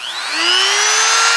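A Ryobi RRT200 rotary tool spins up on low speed and runs with a steady, high-pitched whine that climbs slightly in pitch, close and fairly loud.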